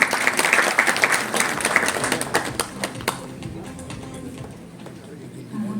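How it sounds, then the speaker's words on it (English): Audience applause rises to welcome the captain of a women's handball team at the launch of a women's handball league in India, dense and loud at first, then thinning into scattered claps with voices underneath. "Can we please invite her with a big round of applause?"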